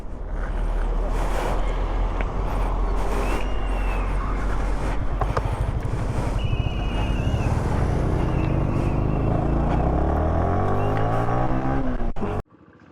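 A car engine drones steadily while being driven on a highway from Ooty to Chennai, with wind rush and road noise throughout, loud and close, and the engine note rising in pitch before the sound cuts off near the end.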